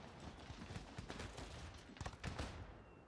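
Musket volleys in Empire: Total War, heard as distant, faint, crackling gunfire with irregular clusters of overlapping shots rippling across a line of troops.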